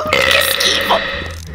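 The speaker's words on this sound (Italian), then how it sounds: "Rutto" A single long, loud burp rumbles for over a second in a Minecraft game session, close and prominent with no talking over it.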